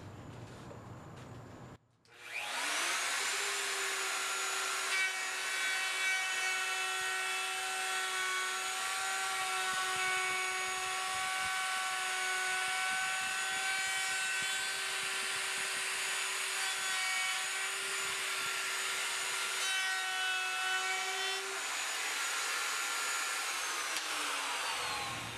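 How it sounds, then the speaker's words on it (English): A big wood router guided by a jig cuts quarter-inch-deep grooves in boards for a modular bookshelf, spinning up with a high steady whine and roaring through the wood for over twenty seconds before winding down. "I went ahead and switched over back over to the big router."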